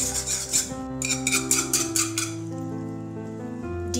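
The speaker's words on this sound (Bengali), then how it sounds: "এবার একটা উইক্স দিয়ে আমি ডিমটা ভালো করে ফেটে নেব" Eggs beaten with a wire whisk in a bowl for a baby's egg pudding, a rapid rhythmic scraping and clinking that runs steadily close up, in bursts that ease off toward the end.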